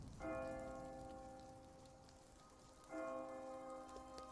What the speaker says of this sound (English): Got the bell toll